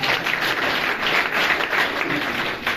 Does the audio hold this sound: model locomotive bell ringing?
no